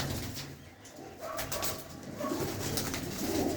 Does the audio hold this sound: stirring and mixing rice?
no